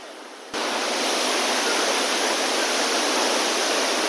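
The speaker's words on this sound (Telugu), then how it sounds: "ఇదే వాటర్ ఫాల్ అండి జోర్మలు గ్రామంలో ఉందండి" A waterfall in a village in Nepal roars loud and close, cutting in abruptly after a quieter half-second and then holding as a dense, unbroken rush.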